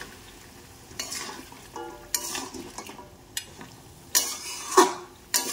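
Rogan josh with yogurt fries in a pan at a low simmering sizzle, punctuated by several louder scraping strokes and metallic clinks of a spoon stirring against the pan.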